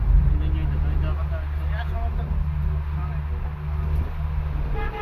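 Busy road traffic in Dhaka at night, with idling engines and short horn toots over a steady low rumble, while a person talks nearby throughout.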